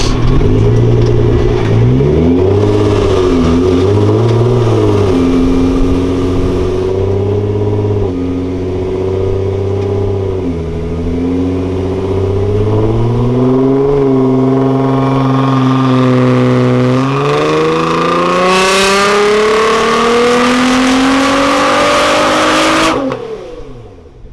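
A Nissan R35 GT-R engine with an Armytrix exhaust revving hard and sustained on a dyno, valves open, pitch climbing and falling in long sweeps, loud and close, before cutting off near the end.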